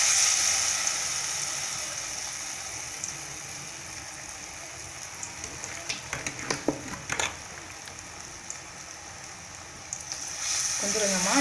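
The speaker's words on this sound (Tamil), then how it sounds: "இப்போ நம்ம கருணக்கிழங்கு நம்ம எடுத்து வச்சுக்கிறத போட்டுக்கலாம்." Pieces of elephant foot yam (karunai kilangu) sizzle and crackle in hot oil, with a steady frying hiss throughout and brief louder bubbling bursts in the middle.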